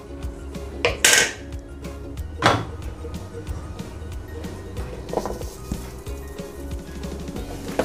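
Sausages, potatoes and onion stirred in an air fryer basket, with clattering metal knocks and scraping, a few sharp clanks early and softer rattles after.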